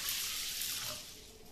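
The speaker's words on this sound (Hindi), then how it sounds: "एक ग्लास पानी डालेंगे, या फिर एक कटोरी मटर के लिए आप इसमें चार कटोरी पानी डालें।" A glass of water is poured onto a bowl of washed dried peas, giving a brief, soft, steady splashing pour with no voices.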